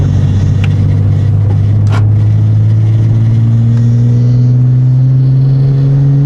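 Nissan 350Z engine accelerating with a steady, loud rising drone that resonates through a stripped-out rear cabin, continuous from start to finish.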